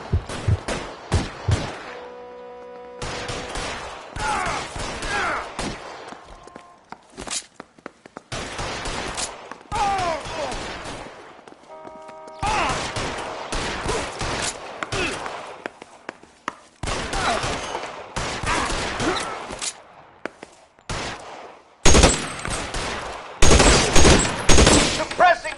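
Gunfire in L.A. Noire: repeated bursts of loud, cracking shots spread across a long stretch and broken by short silences, with shouted voices in between and a dense, heavy volley near the end.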